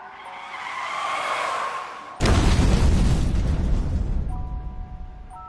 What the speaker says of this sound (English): So he caused a car crash. He crashed a car.